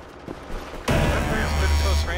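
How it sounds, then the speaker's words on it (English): Vepr shotgun combo firing in the video game World War 3 during a Moscow team deathmatch: after a short, quieter lead-in, a sudden loud blast of gunfire erupts and carries on as heavy, sustained combat noise. "this Vepr shotgun combo is good"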